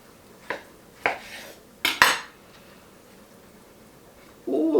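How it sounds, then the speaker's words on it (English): A knife clinks and scrapes against a plate while stuffed armadillo eggs are cut, making four short, sharp hits, the last one loudest, with a brief rustle at the end. "Let's cut them and see what we're gonna get. Cutting time."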